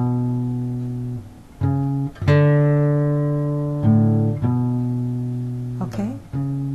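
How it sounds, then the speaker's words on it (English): Single notes of a bass run ring out on guitar in an arrangement of a song: a handful of clear plucked tones step through a short line, each sustaining and overlapping the next, close and clean with no voice. "And as you can hear the bass run"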